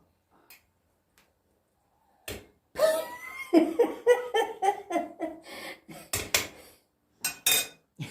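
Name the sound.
closing the lid on a cooking pot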